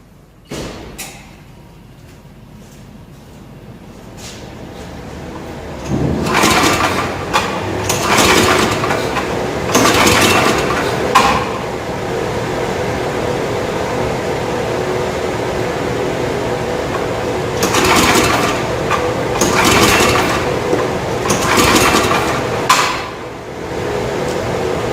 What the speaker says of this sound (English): Let's go ahead and see if we can start it.